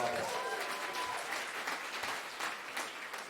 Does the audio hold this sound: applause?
yes